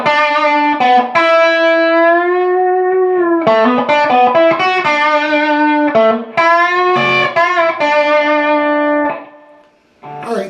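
Electric guitar playing the opening measure of a solo, with sustained, singing notes, bends and releases through an effects unit with light distortion, loud and unaccompanied by talk.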